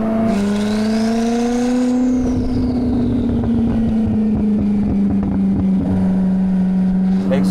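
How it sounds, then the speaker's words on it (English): A hypercar's exhaust sounds loud and close while driving, a steady droning engine note that rises through a gear, drops back and keeps pulling under continuous wind and road noise. "The exhaust sounds good."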